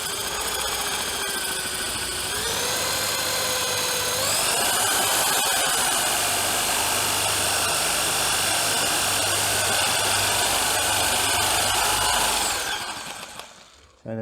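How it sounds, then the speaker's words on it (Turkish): A power drill whines steadily for about twelve seconds while boring holes in a folding camp table, pitch rising as it bites in, then cuts off abruptly near the end. "matkap yardımıyla deliyorum"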